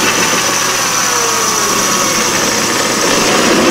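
Small metal lathe cutting 8620 steel for a tailstock part in a smithy shop, a steady loud machine hum with a high whine running continuously throughout, no voices.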